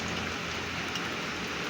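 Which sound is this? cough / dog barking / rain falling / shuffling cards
rain falling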